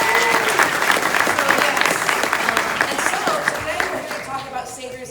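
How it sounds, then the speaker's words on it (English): An audience at a Hearthstone panel for the Saviors of Uldum expansion at San Diego Comic-Con claps and cheers loudly, the applause steady and then tapering off slightly toward the end. "So let's just clap for Hearthstone."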